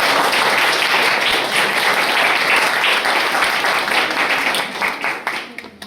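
A church congregation at a youth Sunday morning service claps together in sustained, full applause that tapers off in the final second.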